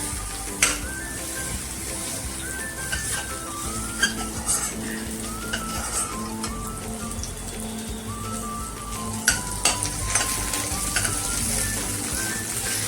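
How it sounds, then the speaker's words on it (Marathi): Garlic sizzling and crackling in hot oil, a steady close hiss broken by a few sharp pops and light utensil taps, no talking. "पहिला लसूण चांगला भाजून द्यायचा"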